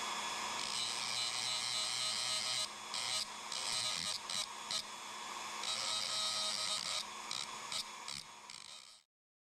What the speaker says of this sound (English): I'm going to use my Dremel.